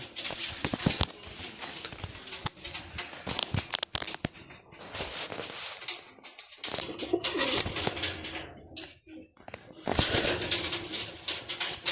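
Pigeons coo close by in a loft, soft repeated coos mixed with clattering, flapping and rustling noises that come and go in uneven bursts.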